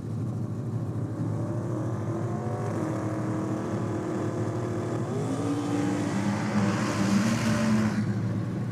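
A black ute making a drag racing pass at the 2023 Kenda 660 event, its engine droning loud and steady, then climbing in pitch as it accelerates hard through the gears toward the end.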